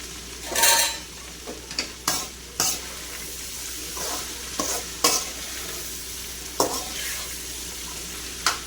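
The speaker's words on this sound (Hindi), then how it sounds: "भिंडी को ऐसा फ्राई करना" Okra frying in oil in a pan while being stirred and lifted, a soft continuous sizzle broken by intermittent scraping and clinking stirs, fairly quiet and close with no talking.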